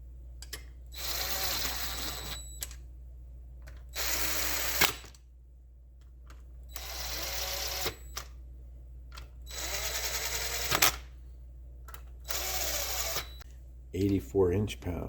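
A power tool drives new plated bolts into a Honda ATC70, five separate bursts of buzzing whir, each about a second long, with short quiet gaps between them and a clattery rattle at the end.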